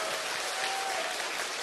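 A seated crowd at a one-day business seminar in Sejong City gives a short burst of steady applause, fairly soft and distant, holding evenly to the end.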